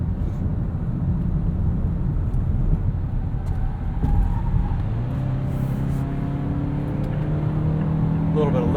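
Interior view of a 2017 Mazda CX-5 Grand Touring FWD being driven, with a steady low engine and road drone that swells slightly as it pulls away; a voice talks over it briefly.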